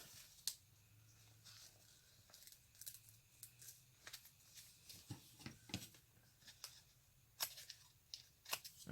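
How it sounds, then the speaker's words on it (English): Scissors snip planner paper at the seam, giving a string of quiet, sharp cuts in an irregular rhythm, close up in a hushed room. "you just give it a little snip"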